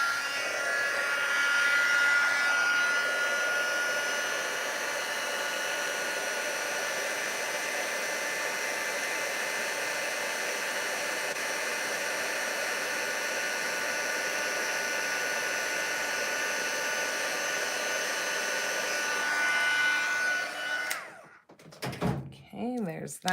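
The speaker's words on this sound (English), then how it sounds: "Got my heat tool." An embossing heat gun blows hot air in a steady, close whirring hiss that runs for about twenty seconds before clicking off, followed by a few soft knocks.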